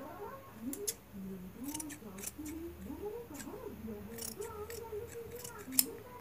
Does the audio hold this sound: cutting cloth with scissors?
yes